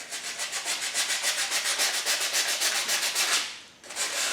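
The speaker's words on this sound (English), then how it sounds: "just kind of sand this front side a bit" Rhythmic back-and-forth sanding strokes rasp across the front face of a cracked project piece being prepped for gold, about twenty steady, close strokes with a short pause near the end.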